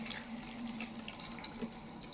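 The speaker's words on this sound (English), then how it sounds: "I will select this to the full open position, so we have the maximum pressure for the water" Water flows through a fully opened valve on a plate heat exchanger rig in a lab, a faint, steady hiss and rush with a low constant hum beneath and no voices.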